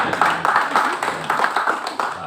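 A gathering of officials in Biak Numfor, Papua, breaks into clapping, a short burst of claps in uneven pulses, fairly close and loud.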